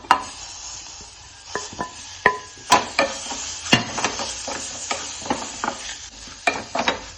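Tomato sautés in a pan with turmeric, chili and coriander powders for a chickpea curry. A soft sizzle runs underneath as a spoon clacks and scrapes against the pan in irregular strokes.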